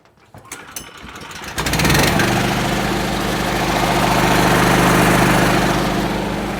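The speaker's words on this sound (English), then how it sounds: "Oh, come on, compressor." An air compressor kicks on after a few soft clicks and taps, then settles into a loud, steady mechanical drone with a constant hum and rattle that stays near and continuous to the end.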